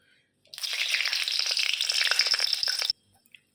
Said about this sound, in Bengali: তেলটা গরম হয়ে গেছে, কারিয়া পাতা আর শুকনা লঙ্কা ছোপ দেব।